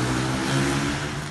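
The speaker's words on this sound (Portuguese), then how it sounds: "Imagens compartilhadas mostram o barulho das motos" Motorcycle engines rev during a street gathering, a loud, steady buzzing drone with clear harmonic tones sustained over a brief moment.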